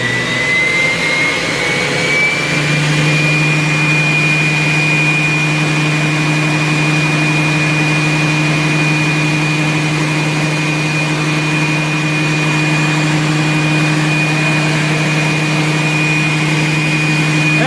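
A Viper Jet model turbine engine runs at raised RPM, a loud, steady whine with a high tone that climbs and then holds, over a constant low roar, with no talking.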